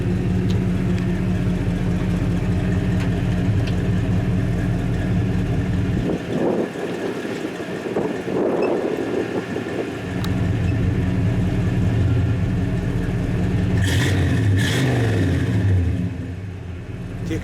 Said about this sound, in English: Why don't you hit the brakes once and then also rev it up, will you?